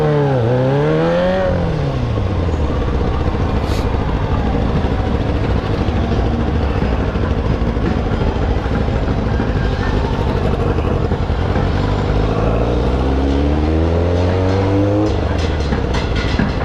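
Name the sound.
city road traffic, cars driving past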